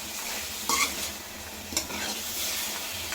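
Chicken chops frying with green chillies in a pan, a continuous close sizzle with two brief clinks or stirring scrapes standing out, and no voices.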